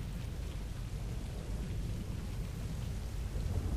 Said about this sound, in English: why doesn't the rain bounce off my gun?